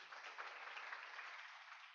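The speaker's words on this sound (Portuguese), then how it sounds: "Dá mais uma salva de palmas para Jesus" A church congregation claps for Jesus at an Easter service, a faint, even band of applause heard from a distance, steady throughout with a slight thinning toward the end.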